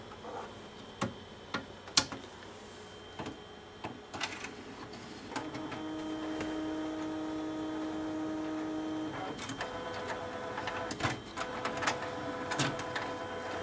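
An original HP DeskWriter printer powers on with scattered clicks and ticks, then a steady mechanical whir and carriage motor hum, followed by more rhythmic ticking and clicking, close and alone.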